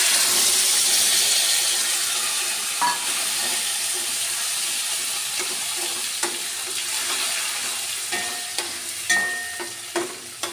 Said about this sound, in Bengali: তো ফোড়নটা আমার মোটামুটি হয়ে গেছে, এবার আমি এই মশলাটা ঢেলে দিচ্ছি।